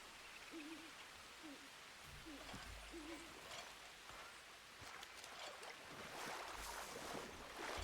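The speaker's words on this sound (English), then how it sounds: "Hear an owl?" An owl in the Red Dead Redemption 2 game world gives several soft, wavering hoots in the first few seconds, then falls silent under a steady bed of ambient wind and outdoor noise.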